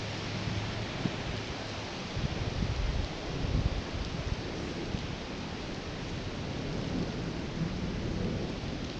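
Steady rain pours down at a fishing spot below a dam in Ludlow, a dense continuous hiss with low rumbling gusts, close and constant throughout, with no talking.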